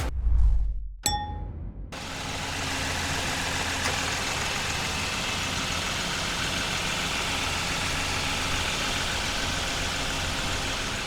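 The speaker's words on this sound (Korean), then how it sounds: "엔진 소리 굉장히 좋고요" A 2021 Genesis G90 3.8 all-wheel-drive sedan with 80,000 km sits with its hood open. A few metallic clunks and dings come first, then the engine settles into a steady, smooth idle heard up close for several seconds, with no talking.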